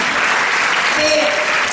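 Audience applause at a lecture on national identity and sovereignty, a loud, continuous patter of many hands with voices audible beneath it.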